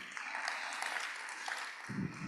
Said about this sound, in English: So let's give them a round of applause again.